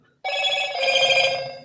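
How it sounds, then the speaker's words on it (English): A mobile phone rings indoors during a relaxed evening crafting session, a bright, steady electronic tone that starts abruptly and holds loud and close for over a second with no talk over it. "That was my phone being silly."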